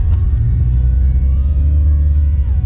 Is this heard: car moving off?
yes